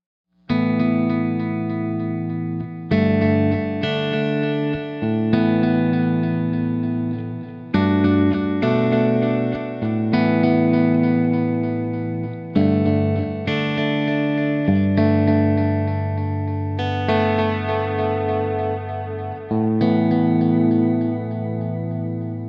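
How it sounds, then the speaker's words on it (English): Guitar played through a Shawn Tubbs A.P.E Echoplex preamp with a Streamline setup, a simple run of sustained chords with echo and chorus shimmer, each struck roughly every two to three seconds and ringing out loud and alone. "I'm going to play something really simple using the A.P.E with my Streamline set up the way I showed it to you guys"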